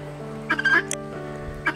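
Close turkey calls: a few short clucking, gobbling bursts over a steady low hum, with brief pauses between them.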